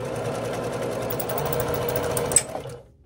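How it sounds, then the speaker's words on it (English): A sewing machine runs down a bandana quilt seam, a close steady whirring stitch for a few seconds that ends with a sharp click before stopping into silence. "And sew all the way down."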